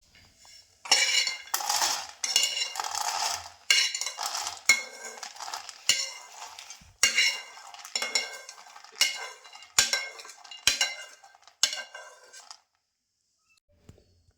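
Roasted peanuts being scooped out of a hot pan, spoon or spatula repeatedly scraping and clinking against the metal in bursts of rattling, with short pauses between scoops, fairly close and without talk.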